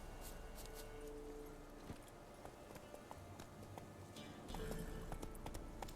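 Hoofbeats of Roach, a horse in Witcher 3, a steady galloping clip-clop heard fairly quietly under game ambience, with no talk over it.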